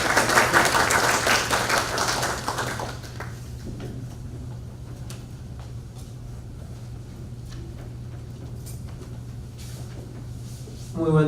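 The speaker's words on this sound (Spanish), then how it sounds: "Recibimos con fuertes palmas al bachiller Bocanegra." Audience applause welcoming a speaker at a results workshop, a short burst of crowd clapping that fades within about three seconds, leaving a quiet room with a low steady hum and a few small knocks.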